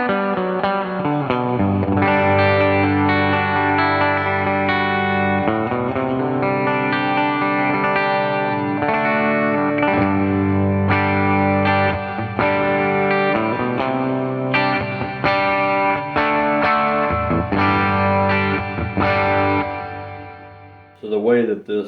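Electric guitar played through a Headrush Bright Hall reverb pedal, steady chords and notes with a washy hall tail and some distortion, loud and continuous, ending in a brief pause and final strum.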